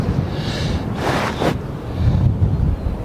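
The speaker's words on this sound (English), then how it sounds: "It's a bit windy, as you might be able to hear." Wind gusting across an exposed coastal cliff path above a bay, a steady rushing roar buffeting the microphone, with a stronger gust swelling in the middle.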